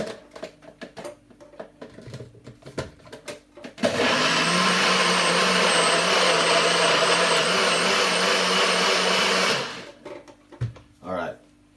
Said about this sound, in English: I'm going to blend this right now